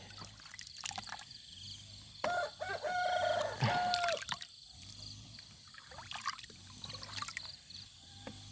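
Chickens cluck outdoors on a rural Thai farm, with scattered calls and a crow-like cry rising in the middle, plus soft trickling and rustling in the background.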